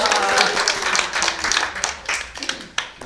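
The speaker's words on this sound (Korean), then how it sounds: "여러분들에게 박수를 한 번씩 치고 마무리를 할 거예요" Students in a classroom clap together at the close of a rice food-culture lesson, a dense patter of hand claps that thins and turns scattered toward the end, with some voices mixed in.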